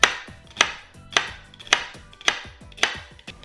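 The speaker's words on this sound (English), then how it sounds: "I'm also gonna slice some celery." A knife slices celery on a cutting board in six even, crisp chops about half a second apart, close and clear, with no talking.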